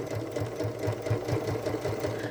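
A sewing machine stitches fabric for a fish-themed Christmas stocking, its needle chattering in a fast, even rhythm at close range and moderate volume.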